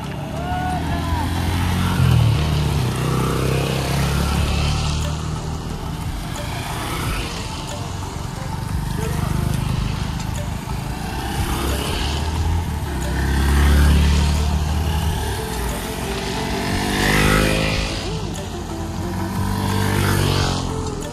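A group of motorcycles, including a Honda Unicorn, a Yamaha MT, a Yamaha ZR 125 and an NS 125, ride together on a long trip toward Harishchandragad. Their engines make a continuous, loud drone, with voices talking over the motor noise throughout.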